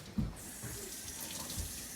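A kitchen tap runs water into a bowl of peanut dipping sauce, a close, steady splashing gush that starts with a brief burst and continues evenly, with no one talking.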